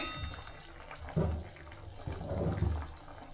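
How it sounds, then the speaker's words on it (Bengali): Water boils in a cooking pot with nearly cooked potatoes, giving a quiet, low bubbling that swells in two brief surges over a soft steady background. "তো জল উতলে উঠেছে"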